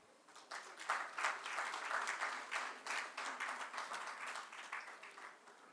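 An audience at a poetry event in Uttarakhand gives warm applause to welcome Dr. Indu Agrawal, a dense burst of many hands clapping that swells quickly and then slowly fades, with no speech over it.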